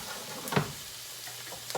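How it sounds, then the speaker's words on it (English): Shallots and onions sautéing in a pan on the stove as a garnish for beef, a soft steady sizzle with a couple of brief stirring scrapes. "I am caramelizing the shallots"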